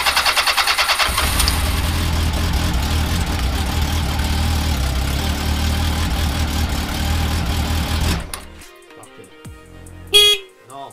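A 750 motorcycle engine cranks and fires after its carburetors are refitted, a loud steady roar for about eight seconds before cutting out, followed by quieter clicks and a brief sharp sound.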